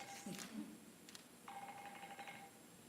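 A mobile phone rings in a lecture hall, a steady electronic ringtone tone sounding moderately near, with faint room noise and brief background voices around it.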